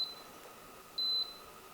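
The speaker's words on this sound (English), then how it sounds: "And now it's beeping because there's no pan on it" A high electronic beep from an induction cooktop hidden under a countertop, sounding because no pan is on it: a faint short tone followed by one longer, clearer beep against quiet background noise.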